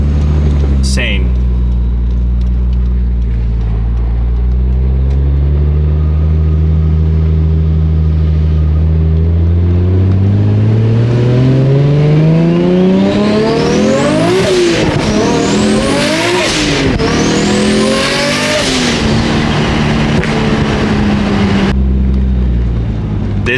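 A 1999 Nissan Skyline R34 GTR V-spec on Los Angeles streets idles with a deep rumble, then revs hard several times in sharp rising sweeps with a turbo whistle, close and loud, before dropping back to idle.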